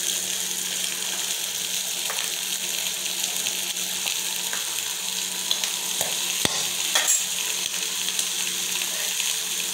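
Food roasts in oil in a pan, giving a continuous dense sizzle and crackle up close, with a few sharp ticks and pops scattered through it and no talk.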